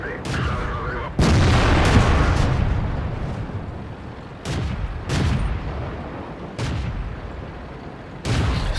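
Several loud, sharp tank cannon blasts in World of Tanks ring out at irregular intervals, each followed by a rumbling decay, with a steady engine-like drone beneath.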